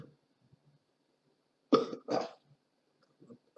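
Two quick, close coughs in a row, with faint breathing and rustle around them in an otherwise quiet room.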